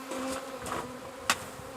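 Package of honeybees buzzing in a steady drone while being shaken out during a beginner beekeeping class, with a sharp knock partway through and no talk.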